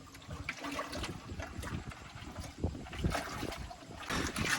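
A liquid organic fertilizer mixture with eggshells in it is stirred, making irregular sloshing and splashing with scraping knocks, close to the microphone, with some wind noise over it.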